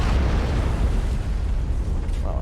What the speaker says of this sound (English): Lots of explosions going off from enemy tanks and artillery.